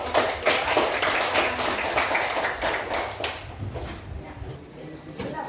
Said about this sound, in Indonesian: Beri tepuk tangannya untuk